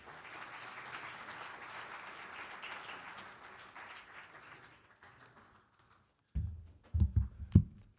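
Audience applause welcoming Rabbi Elliot Cosgrove at a national assembly, moderate clapping that fades out, followed by a few close thumps and taps.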